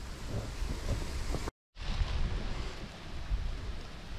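Wind buffeting an outdoor microphone in rough, roaring gusts on a riverbank while fishing, broken by a brief moment of silence partway through.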